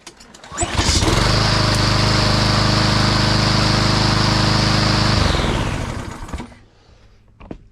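A small engine fed starting fluid through a carburetor that had diesel in its bowl catches and runs loudly and steadily for several seconds with a lawn-mower-like drone, then cuts out and falls quiet.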